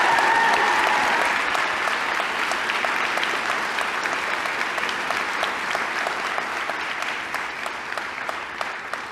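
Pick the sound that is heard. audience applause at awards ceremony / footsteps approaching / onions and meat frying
audience applause at awards ceremony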